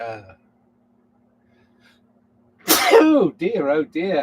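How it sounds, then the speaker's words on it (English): A single sharp, explosive sneeze bursts out after a brief sound and a near-silent pause, and a person then speaks a few words. "they've given me things to sneeze about"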